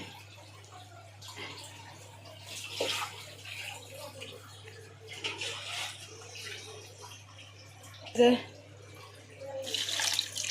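Water splashes into a cooking pot of homemade rooster chicken pulao in a few uneven pours, with a louder gush near the end over a low steady hum.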